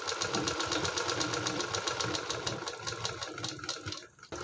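Sewing machine stitching around a neckline, a steady close whirring rattle running continuously for several seconds before briefly slowing and stopping, then restarting.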